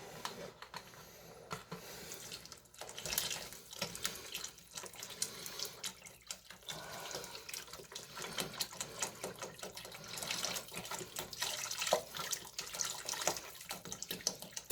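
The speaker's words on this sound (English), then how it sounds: "I'm going to add our second thing of chicken stock." Chicken stock pours steadily into a cooking pot, a quiet continuous liquid splash and gurgle running for several seconds without speech.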